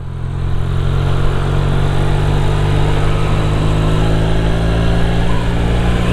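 A Suzuki V-Strom 700 motorcycle engine with a little over 15,000 km on it runs steadily and loudly for about six seconds, a constant low rumble close by with no talk over it.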